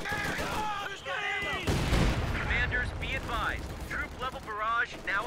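Pack howitzer artillery fire in the Company of Heroes video game: a booming shot bursts out under an almost constant in-game voice announcing commands and alerts.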